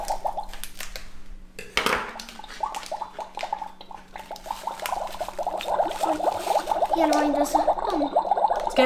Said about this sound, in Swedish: Den puttrar och bubblar lite.